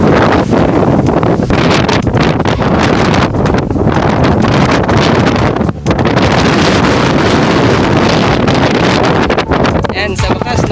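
Strong wind roars into the microphone in a steady, loud buffeting rush on a rocky, slippery outdoor tourist trail, nearly continuous with only brief dips.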